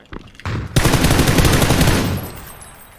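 Rapid automatic gunfire in PUBG: Battlegrounds erupts after a few short shots, a loud sustained burst of rattling fire that gradually tapers off.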